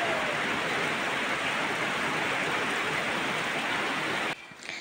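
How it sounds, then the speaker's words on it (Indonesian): Heavy rain pours steadily outside a home in a dense, loud, unbroken hiss that cuts off abruptly near the end. "hujan lebat ya teman-teman."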